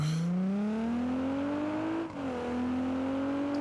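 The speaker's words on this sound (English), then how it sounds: "This car is very loud." A loud sports car engine in the BeamNG.drive racing game revs steadily upward in a rising whine, dips briefly as it shifts gear, then climbs again with no talking over it.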